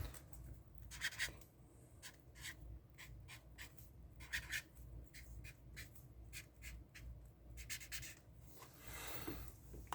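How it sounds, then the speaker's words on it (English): Pen writing a list by hand on paper, a run of short scratchy strokes in bursts with brief pauses, close and fairly quiet, no talking. "I'm going to write down a list."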